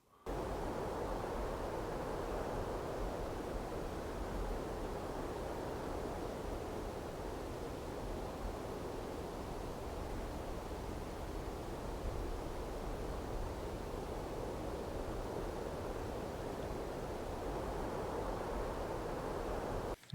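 Looping wind ambience track, a broad continuous whooshing roar with gently shifting intensity, steady and dense throughout with no voices.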